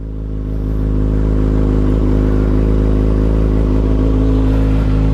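A 2021 Kawasaki Ninja ZX6R with an M4 Street Slayer slip-on exhaust rumbles loudly and steadily at idle, a deep throaty drone close to the listener.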